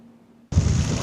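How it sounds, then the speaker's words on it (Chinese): An explosion during a naval live-fire drill sends seawater spraying high: a sudden loud blast after near silence, followed by a sustained roaring wash of noise. "一阵爆炸声，海水是喷甲真悬"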